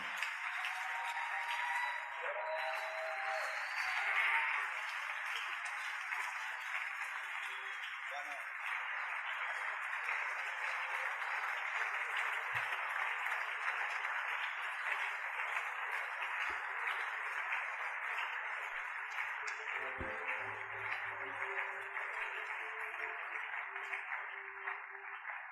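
A church congregation at a worship seminar applauds and cheers as a pastor is welcomed, a steady dense wash of clapping and voices filling the room throughout, with a few low thumps and a brief voice near the end.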